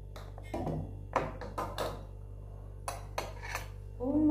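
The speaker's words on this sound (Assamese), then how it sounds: "মই এতিয়া চেকনিয়ে চেকি ল'ম পানীটো" Boiled makoi water strained through a metal strainer in a home kitchen, heard as a series of close clinks and clatters of pot and strainer with short gaps, ending in a louder scrape.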